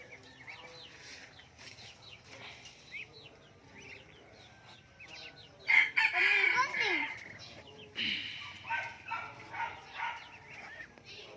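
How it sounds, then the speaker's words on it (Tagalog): A large farmyard chicken, a rooster, gives loud clucks and a crowing call, with a dog barking in repeated bursts in the latter half, over a low background murmur. "Atong manok dito dako."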